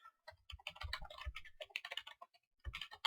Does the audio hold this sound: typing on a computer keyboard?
yes